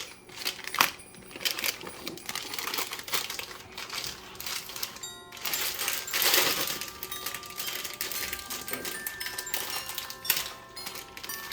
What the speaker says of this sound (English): now it's time to add the chocolate chips